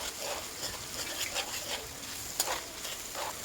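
Pork sizzles steadily in a wok for bagoong with pork, with stirring scrapes and small louder pops at close range. No one speaks.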